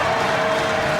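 A boxing crowd at ringside roars as the fight reaches its final round. The sound is a dense, steady wash of cheering and noise with no clear breaks, loud and continuous through the short stretch.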